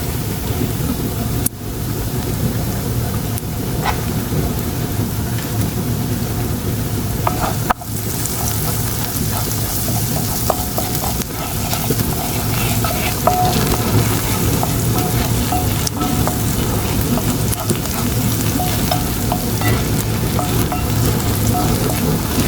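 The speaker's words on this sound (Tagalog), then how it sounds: "So ngayon ay gigisahin na natin yung onion" Onion sautéing in a pan for mawash rice with shrimp, a steady dense sizzle of frying that runs continuously, close and fairly loud, with faint clinks of stirring now and then and no talking.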